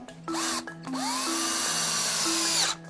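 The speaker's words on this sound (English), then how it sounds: "We can put the screws back in." Cordless power drill driving screws back into a deep-sea fishing bait rig, close and loud, with several bursts of whining motor that rise and stop between short pauses.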